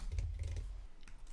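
Fingers tap quickly on a computer keyboard while entering a domain name into a web browser, a brief close burst of soft clicks with a pause before a couple more keystrokes.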